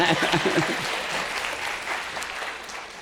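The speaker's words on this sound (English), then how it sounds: "I'll take an applause for that." Audience applause during a keynote workshop on health care, a brief burst of clapping that follows a few spoken words and then thins into a softer, fading patter.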